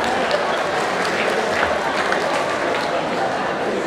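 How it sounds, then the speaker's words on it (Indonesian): An audience claps for two candidates at a staged debate during a ludruk theatre show, a dense, loud wash of applause throughout with voices talking over it. "berikan aplaus untuk kedua calon"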